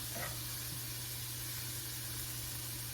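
A cut tomato, salted and peppered, sizzles in a hot skillet as it is turned over: a steady, close frying hiss that holds evenly throughout, with a faint brief clatter near the start.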